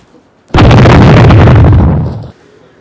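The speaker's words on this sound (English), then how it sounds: "we need more explosions!" A single loud, booming explosion bursts in suddenly and rumbles for nearly two seconds before cutting off.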